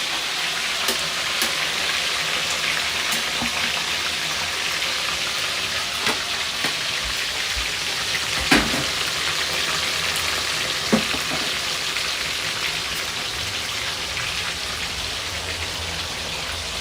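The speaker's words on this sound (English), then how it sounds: "I do not like to deep fry my fish because it just makes it really dry. I like to, is that shallow fry in English?" Fish shallow frying in oil gives a steady, dense sizzle and crackle, close and continuous, with occasional louder pops breaking through the hiss and no talking.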